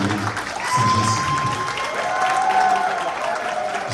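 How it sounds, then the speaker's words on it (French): Gala audience applauding an honoree, a continuous crowd clapping with cheers and a voice or tone rising over it, steady and fairly loud throughout. "faisons résonner nos applaudissements pour cette femme inspirante"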